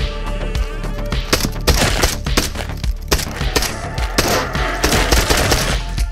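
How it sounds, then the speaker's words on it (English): Rapid laser-weapon fire from an enemy in the VR shooter Into the Radius, a loud, dense stream of bursts running the whole time over a busy game soundscape. "And he shoots the lasers!"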